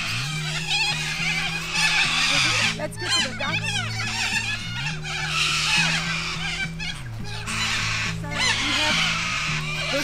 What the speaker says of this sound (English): These are corellas, and then the black ones are apostle birds